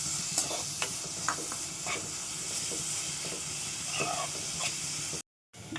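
Grated bottle gourd frying in hot ghee gives a steady, close sizzle, with scraping stir strokes and soft clinks throughout and a short silent gap near the end.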